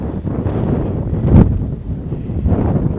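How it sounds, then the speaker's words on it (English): Wind blowing in a snow blizzard on a Manhattan street, a steady, loud, low rumble buffeting close to the microphone with gusts rising and falling and no talking. "It's a little windy"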